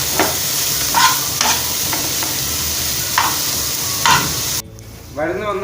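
Garlic sizzles steadily in a hot pan while a spoon stirs it for a Kerala spinach thoran, with repeated scraping strokes over a constant frying hiss that cuts off near the end.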